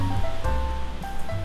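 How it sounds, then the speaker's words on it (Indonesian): Fast-flowing river water rushes steadily below a resort terrace in Ubud, Bali, a dense, continuous roar with no breaks and no voices. "dari teras ini kita langsung bisa mendengar suara aliran air sungai yang deras"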